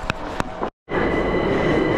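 A train pulls into a station with a close, loud rumble of wheels and two sharp metallic clicks, then a brief cut before the rolling noise resumes, steady and full.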